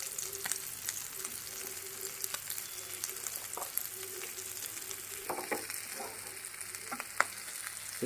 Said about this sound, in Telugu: ఇప్పుడు ఉల్లిపాయ ప్లస్ చికెన్ ముక్క కూడా కరెక్ట్గా ఫ్రై అవుతుంది అన్నమాట.